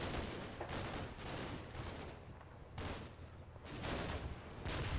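Mortar blasts and gunfire from the war video game Combat Mission Black Sea, in a run of heavy explosive bursts separated by short gaps under a constant roar of fire, with no talk.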